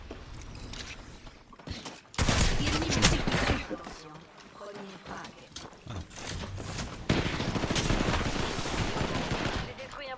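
Bursts of P2020 pistol fire ring out in an Apex Legends match, rapid cracking shots in two loud clusters separated by quieter stretches with in-game sound and some talk.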